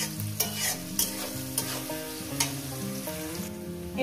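Potato and jackfruit curry frying with salt in a pan, a constant bright sizzle with soft periodic stirring scrapes under tonal background music.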